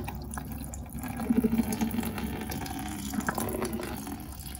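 Diesel runs out of an opened fuel filter drain plug in a steady trickling splash with a few brief louder gurgles, close and alone.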